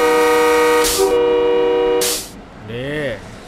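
A loud train horn sounds a long, steady blast from a special holiday train hauling eight cars on metre-gauge track during the Songkran festival, followed by a brief hiss and then someone talking.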